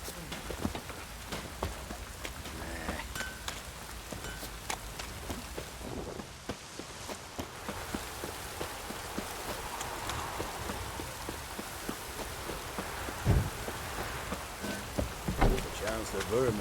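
Steady downpour in The Witcher 3 game world, a dense hiss of rain on surfaces running throughout, with scattered drops and occasional louder knocks, spoken dialogue passing over it now and then.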